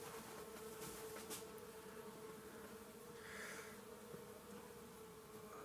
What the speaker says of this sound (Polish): Bardzo dużo pszczół tu wyszło dzisiaj.